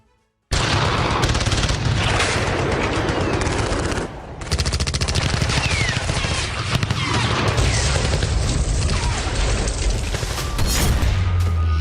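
Ukraine war footage carries loud, continuous bursts of rapid gunfire and heavy booming blasts that hit one after another with barely a pause, with voices mixed in underneath.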